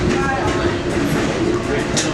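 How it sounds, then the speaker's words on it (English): A passing train, probably a trash freight train, gives a steady, loud rumble with rail clatter, heard from inside a passenger train's cafe car along the Northeast Corridor. Voices can be heard faintly in the mix. "Huh, that must be a trash train."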